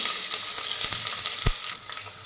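Thinly sliced long onion pieces frying in oil for chicken biryani, a steady bright sizzle with a few soft stirring knocks, close and continuous, no voices.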